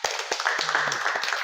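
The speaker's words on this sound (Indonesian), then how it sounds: "Tepuk tangan untuk kita semua." A class claps together in a short burst of applause, a quick scatter of bright hand claps that lasts under two seconds.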